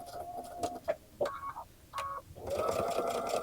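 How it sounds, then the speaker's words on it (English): A sewing machine stitches in short stop-start bursts, then runs a longer steady whirring pass while back tacking the seam ends, heard close and alone. "I want to back stitch or back tack"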